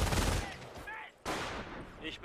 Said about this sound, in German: Der Sniper schießt noch daneben